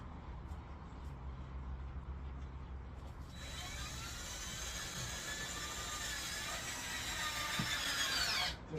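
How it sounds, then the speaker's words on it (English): A power drill drives a screw through PVC, its motor whining steadily and close for about five seconds after a quieter start, with faint handling noises before it. "Sometimes it takes a little bit to get the screw started because it's drilling through PVC."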